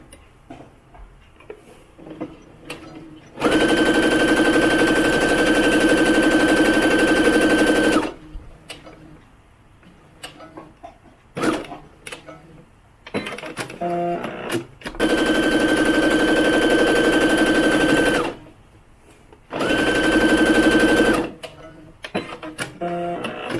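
A sewing machine stitches the top shoulder and arm seams of a doll garment in several long, rapid runs of close, loud mechanical whirring, separated by quiet pauses and brief clicks of fabric handling.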